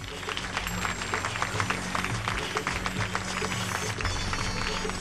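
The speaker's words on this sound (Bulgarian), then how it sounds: "Аплодисменти за тях!" A large audience applauds Russian guests on a festival stage, dense sustained clapping filling the hall at a steady loud level with a faint voice briefly audible beneath it.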